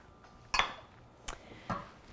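Chopped tomatoes go into a pot, heard as three sharp clinks of a utensil on the pot spaced about half a second apart over a quiet background.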